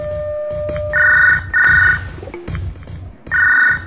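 A telephone rings in repeated electronic trills, three loud bursts with short gaps between them, over a rhythmic low background pulse, with no one speaking.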